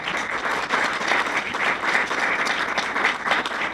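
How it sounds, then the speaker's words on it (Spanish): An audience at an animal protection conference claps steadily, a dense, lively patter of many hands throughout with no speech. "quiero darle un aplauso muy grande a estos organizadores"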